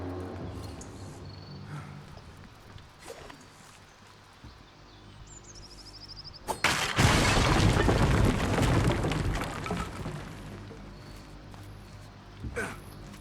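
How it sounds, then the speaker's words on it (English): A sudden loud blast in the Assassin's Creed Mirage video game erupts out of quiet ambience with faint bird calls, followed by a few seconds of roaring, fading rumble and debris. "Let's hope nobody heard that giant explosion."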